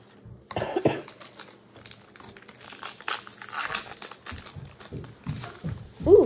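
Japanese Pokémon card packs being opened, their foil wrappers crinkling and crunching in repeated close bursts, with a few coughs and small vocal noises mixed in.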